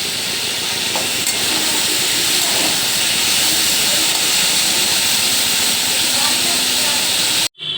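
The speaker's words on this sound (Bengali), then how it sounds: "তো এদিকে আলুটা এবার ভেজে নেব।" Potato pieces fry in hot oil in a home kitchen, giving a loud, steady, broadband sizzle that runs unbroken and then cuts off abruptly near the end.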